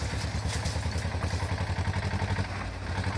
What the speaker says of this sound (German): Deutlich langsamer ist der alte Fendt-Trecker.